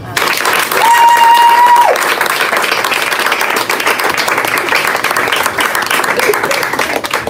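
A church congregation bursts into loud, sustained applause and clapping to acclaim God, a dense wash of hands that holds steady throughout, with a brief tone near the start.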